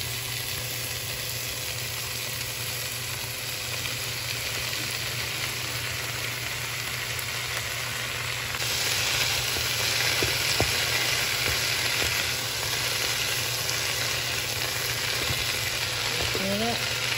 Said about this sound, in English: Add the cabbage in.